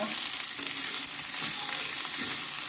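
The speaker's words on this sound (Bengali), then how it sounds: "পেঁয়াজ ক্যাপসিকামগুলো আমি দু তিন মিনিট একটু ভালো করে ভেজে নেব" Chopped onions and capsicum sizzling in a pan with a little salt, a steady soft hiss of frying with faint stirring scrapes, heard alone without voices.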